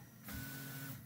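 A Tridex 3D printer running a bed mesh gives a short burst of motor whine with a steady tone, starting abruptly and holding for under a second over a constant low hum.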